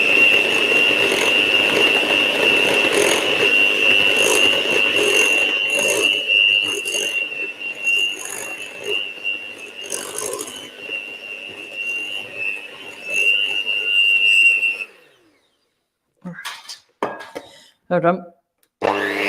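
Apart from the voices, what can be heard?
whisking brownie cookie batter with electric beaters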